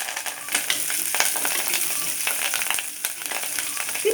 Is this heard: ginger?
yes